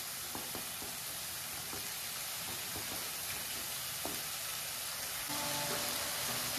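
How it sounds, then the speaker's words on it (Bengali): Spice masala with cumin and coriander powder fries in oil in a pan, a steady, close sizzle with faint clinks of stirring, growing slightly louder near the end. "মশলা প্রায় কষানো হয়ে এসছে, তেল ছেড়ে দিয়েছে।"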